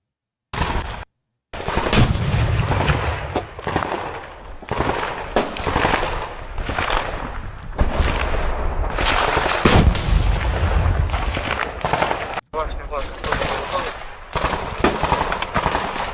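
Combat footage of an RPG or recoilless rifle firing amid other weapons: loud, dense blasts and crackling shots almost without pause, with voices mixed in.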